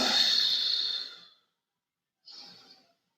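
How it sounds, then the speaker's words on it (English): During a core and calisthenics workout, a long audible breath in through the nose gives way to a shorter, softer breath out through the mouth, close and alone. "Inhale through the nose. Exhale through the mouth."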